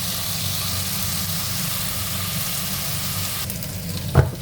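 Chicken frying in a pan gives a steady, even sizzle throughout, with a brief clink of a utensil against the pan near the end.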